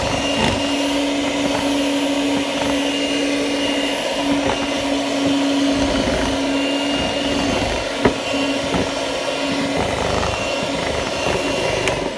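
An electric hand mixer runs steadily, beating cornbread batter for black bean corn bread muffins, with a continuous motor whine and occasional knocks of the beaters against the bowl.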